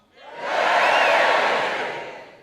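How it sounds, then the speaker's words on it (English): Comedy show audience members under 50 cheer and whoop in a loud crowd roar that builds over half a second, holds, then begins to fade. "a cheer if you're not."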